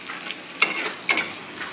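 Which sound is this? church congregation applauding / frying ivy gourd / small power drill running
frying ivy gourd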